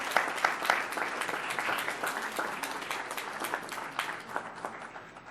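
A board meeting audience applauds students being recognized, with many hands clapping in a dense, even patter from start to finish at moderate loudness.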